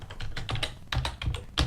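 Rapid bursts of keystrokes on a computer keyboard, close and clear, in short clusters separated by brief pauses while a file name is entered.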